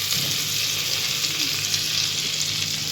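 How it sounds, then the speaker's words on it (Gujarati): Cumin seeds crackle and sizzle in hot oil and butter, a steady, dense frying hiss that fills the whole stretch close to the pan, with no voices over it. "થોડું જીરું તતડે"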